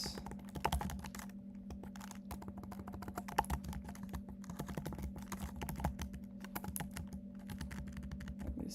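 Rapid, irregular keystrokes on a computer keyboard while coding, close and steady over a low constant hum, with no talking.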